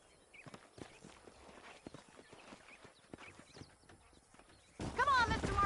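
Rhythmic clip-clop of horse hooves on the ground at a steady walking pace in the video game Red Dead Redemption, fairly quiet, followed at the end by a louder burst of voices.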